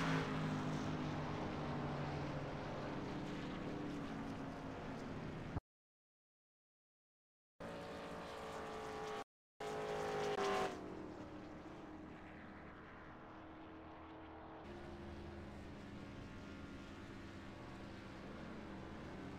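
A race car on the Daytona oval in a racing game drones steadily at a constant engine pitch, broken by a couple of short dropouts before the engine tone shifts and continues.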